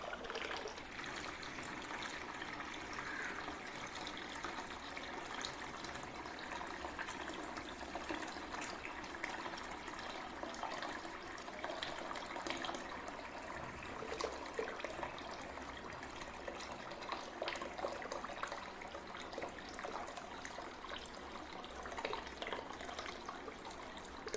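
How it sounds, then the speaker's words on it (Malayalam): Water steadily pours and trickles into a guppy aquarium as it is refilled after cleaning, a continuous, fairly quiet splashing stream that runs without a break for the whole stretch. "അപ്പോൾ നമ്മൾ ആ അക്വേറിയത്തിൽ വെള്ളം നിറച്ചു"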